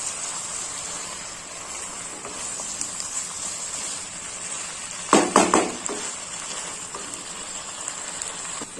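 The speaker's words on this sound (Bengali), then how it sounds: "আলুর সঙ্গে চিকেনটাকে খুব ভালোভাবে কষিয়ে নিতে হবে" Chicken and potatoes sautéing in a pan with green chillies and coriander leaves, a steady soft sizzle running throughout with a brief louder burst of stirring clatter partway through.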